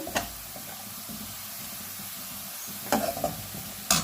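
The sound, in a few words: onion frying in pan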